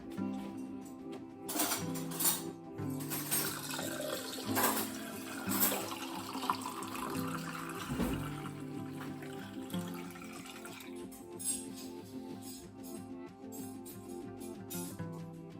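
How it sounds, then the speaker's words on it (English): Cider pours steadily and quietly from a barrel into a glass, a soft continuous gurgling trickle with faint background noise. "So there's the barrel of cider sitting on the stand all ready to pour the pint out."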